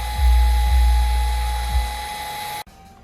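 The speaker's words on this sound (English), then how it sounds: "we're drilling the top one to 7/64ths" A handheld power drill bores a PCV valve hole out to 7/64 inch on a GM 3.6L LFX engine, giving a loud steady whirring hum with a few brief bites before it stops abruptly.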